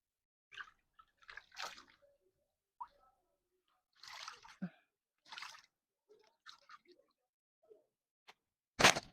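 Water sloshing and dripping in scattered bursts as a wig is washed, close and fairly quiet, with silent gaps and one sharp louder splash at the end.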